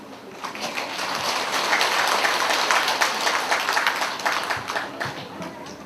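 Sustained audience applause at a Buddhist folk-belief seminar at Dongguk University, dense steady clapping filling the room at moderate volume throughout, with no voices over it.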